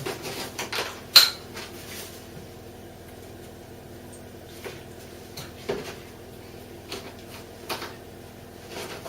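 A spoon works icing sugar and milk together in a bowl, giving faint, scattered clinks and scrapes with a sharper knock near the start, close by and quiet.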